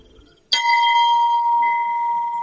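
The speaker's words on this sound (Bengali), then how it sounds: "দড়িটা ধরে টান দিতেই চারিদিকের জমাট অন্ধকার ও গাঢ় স্তব্ধতা ছাপিয়ে গুরুগম্ভীর স্বরে ঘণ্টা বেজে উঠল" A deep, heavy bell rung by pulling its rope gives one sharp strike, then a long, sustained ring that hangs in the silence and slowly fades.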